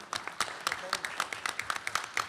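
Sparse, light clapping from a small audience honouring a congresswoman at a panel on caregiving in Hispanic families, a handful of separate claps at an uneven rhythm, moderately near and fairly soft.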